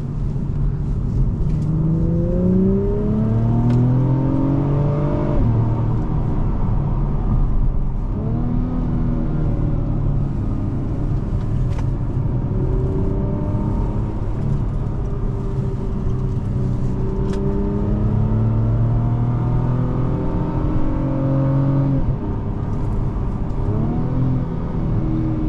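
A 2023 Acura TLX Type S pulls hard from inside the cabin, its engine note climbing and dropping at each transmission shift, with a steady loud rumble and several rising sweeps across the pull.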